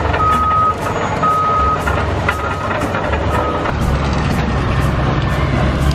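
A tracked dump truck reverses nearby, its backup alarm beeping in a steady repeating pattern over the loud rumble of the diesel engine.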